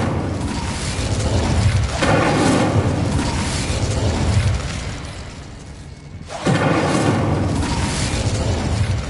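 Incendio fire spell blasts in Hogwarts Legacy, two loud booming bursts with roaring fiery noise, the second starting abruptly after a quieter gap, no talk.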